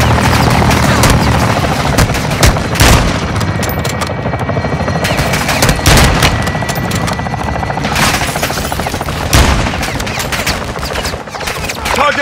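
Fire-support gunfire during an assault on the Shadow Co. compound in Call of Duty Modern Warfare 2: loud, dense bursts and booms over a steady helicopter-like roar, with sharp blasts recurring throughout and no talk.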